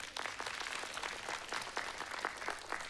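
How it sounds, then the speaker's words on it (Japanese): A modest audience claps at a planetarium synthesizer concert, light, distinct handclaps in a quiet, uneven patter at low volume. "じゃあ皆さん拍手で。"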